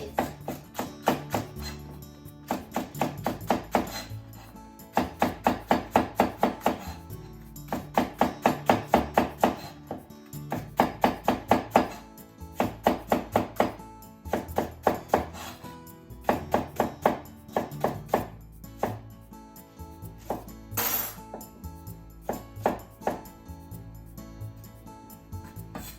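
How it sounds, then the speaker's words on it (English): A knife cuts a Japanese leek into thin diagonal slices on a cutting board, giving quick rhythmic runs of close, crisp taps in repeated bursts with short pauses between them. "Let's cut the top off because it's dried. Make thin diagonal slices."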